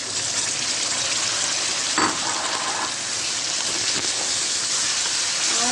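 Chicken pieces dropped into hot ghee with garlic and ginger set off a steady, close sizzle, with a brief louder burst as the meat hits the pan and a softer crackle later.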